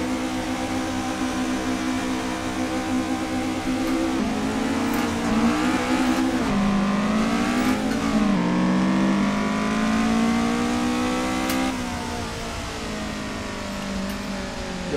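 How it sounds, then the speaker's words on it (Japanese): A Honda Acty kei truck fitted with an AE86 engine revs hard on a mountain pass, its loud, strained engine note rising and falling through gear changes and climbs, close and continuous with no talking. "ホンダアクティ軽トラに AE86 のエンジンをね、積んできました。"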